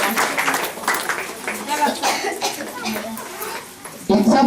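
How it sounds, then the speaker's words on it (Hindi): An audience at a Christian ministry gathering gives loud applause, a rough, dense burst of clapping mixed with voices and crowd noise that tapers briefly before a sharp new sound near the end. "जोरदार ताली से धन्यवाद।"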